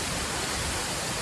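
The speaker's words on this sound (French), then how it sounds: "Nous sommes à la cascade de Tess." The waterfall at Theth, Albania, gives a loud, steady roar of rushing water close by. It fills the whole moment with dense, unbroken noise and no other sound or voice.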